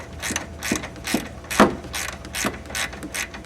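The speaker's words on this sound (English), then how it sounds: "A ratcheting wrench comes in real handy." A ratcheting wrench tightens a 10 mm bolt during radiator replacement on a 2001 Dodge Caravan Sport, giving about seven distinct bursts of close, crisp clicks in an even back-and-forth rhythm.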